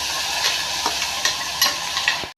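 Ground masala for sambar cooks in a pan with a bright continuous sizzle and bubbling, a few spoon knocks on the rim, close and without voices.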